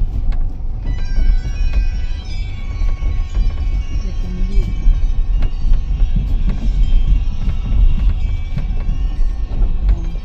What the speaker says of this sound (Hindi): तो अभी हमारी ट्रेन पहुंच चुकी है सासाराम जंक्शन।